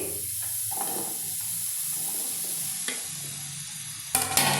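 Chopped bottle gourd pieces sizzle steadily in a pan on a lit stove, with soft stirring scrapes throughout and a brief louder clatter near the end; no one speaks.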